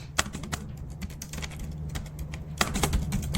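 A prompt is typed on a computer keyboard, a quick irregular patter of close key clicks with a few sharper strikes, continuing steadily with no talking.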